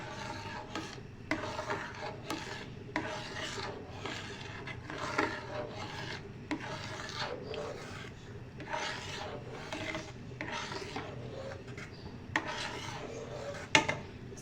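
Semolina halwa is stirred without stopping in a pan, and a spoon rasps and scrapes across the metal in a steady repeating rhythm, close and clear.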